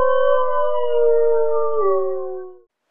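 A wolf howl sound effect rings out as one loud, sustained tonal cry about two and a half seconds long, dipping slightly in pitch near the end before fading out, alone with no talking.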